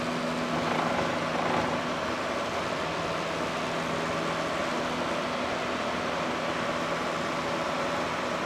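A small propeller airplane's engine runs at full power during a go-around, a steady loud droning roar with constant wind rush throughout and no break.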